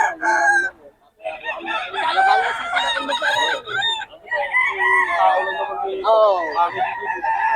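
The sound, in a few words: rooster crowing, Early Bird WPC banded gamecock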